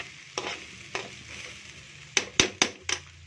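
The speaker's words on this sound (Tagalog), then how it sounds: "Hukayin na muna natin siya para mag-mix yung pinatimpla natin." A spatula scrapes and stirs kiampong rice in a hot pan, a low sizzle running beneath sharp scraping strokes, two spaced apart and then four in quick succession, close and fairly loud.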